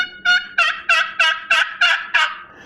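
A box call imitates a wild turkey, giving a rapid series of seven loud, raspy yelps in an even rhythm, close and clear with nothing else behind them.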